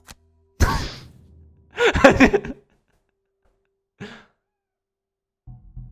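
Several pet cats meow and make noise in short separate bursts, with a couple of louder vocal outbursts and long quiet gaps between them.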